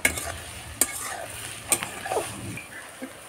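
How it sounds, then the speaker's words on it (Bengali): Chopped onions sizzle in hot mustard oil in a karahi, crackling steadily while a utensil scrapes and stirs in sharp clicks throughout, close and clear. "তেল গরম হয়ে গেলে দিয়ে দেব কেটে রাখা পেঁয়াজ।"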